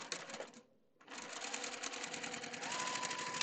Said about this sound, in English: line up your raw edges, and sew a 1/4 inch